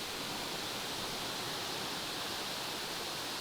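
Steady rushing water of a creek, a dense even wash of flow with no breaks, moderately faint and heard alone.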